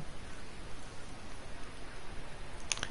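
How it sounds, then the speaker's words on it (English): Heavy rain falls at a Formula C motor race, a steady, even hiss of rainfall filling the background at moderate distance without other clear sounds. "Oh, and as expected, we have the heavy rain."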